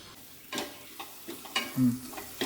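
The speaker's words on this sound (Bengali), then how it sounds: "এবার স্বাদ অনুযায়ী আমি নুন দিচ্ছি, দিয়ে আমি এই মশলাটা খুব ভালো মতো কষাবো।" Chilli, turmeric and salt sautéing in a pan with little oil for garlic lentil chicken, a quiet low sizzle broken by several distinct stirring scrapes and one louder clatter near the end.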